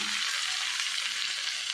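Continuous crackling sizzle of okra frying in hot oil, steady and close, with no talking.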